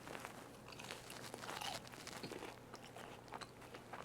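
Crunchy homemade orange chicken being bitten and chewed up close, with a run of soft crackling crunches and chewing noises spread through the clip and no talking.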